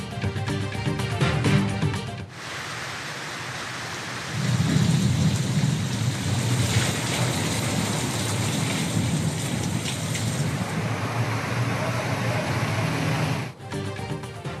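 Heavy rain pours over a city in Punjab while thunder rolls, with a deep rumble swelling partway through and a loud, steady downpour that lasts throughout. No one speaks.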